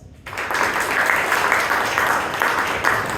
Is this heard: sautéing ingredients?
no